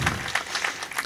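Audience at a Pratapgarh poetry recital claps in a short, uneven burst, a few scattered loud claps close by with no voices.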